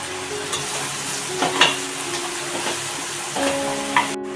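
Malvani masala, turmeric and garam masala sizzle in hot oil in a pan for a Maharashtrian vegetable curry, with a spoon scraping and stirring at a steady, close rhythm.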